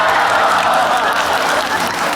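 Steady, dense applause from a packed hall audience in China, continuous and fairly loud throughout with a broad wash of clapping and no pauses.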